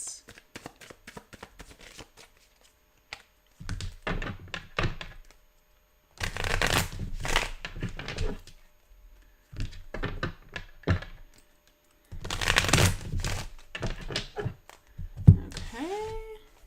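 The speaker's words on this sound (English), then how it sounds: "Let's shuffle up your main deck, your main spread." A deck of tarot cards being shuffled by hand in repeated bursts of riffling and tapping, separated by short pauses, close and moderately loud with no talk over it.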